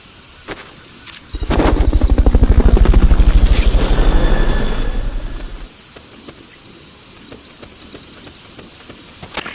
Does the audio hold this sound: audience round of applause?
no